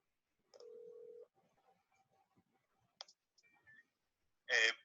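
Phone dial pad tones while dialing an extension on a business unified communications phone system: a sustained tone, then a few short beeps and clicks, ending in a louder burst, all clear and close with no talking.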